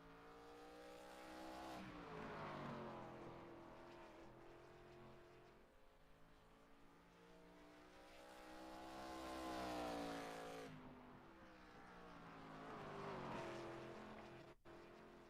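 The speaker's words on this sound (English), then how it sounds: "Gonna jump up here to Aaron Lester in the 86 car out for his 2 timed laps." A race car runs timed qualifying laps at Nashville Fairgrounds Speedway, a high-banked track with a worn, bumpy surface. A steady engine drone rises and falls as it accelerates and passes, with no talk.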